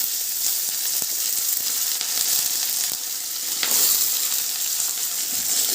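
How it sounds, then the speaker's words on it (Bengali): Cut potatoes and slit green chillies with dried red chilli fry in hot oil in a pan, giving a loud, continuous crackling sizzle with a few faint stirring taps. "আলুগুলো একটু ভেজে নেব আলুগুলো একটু ভেজে নিলাম"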